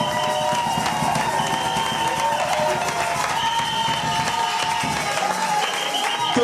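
A church congregation applauding and cheering in worship: sustained, dense clapping and crowd noise with voices and shouts mixed in, loud and continuous throughout.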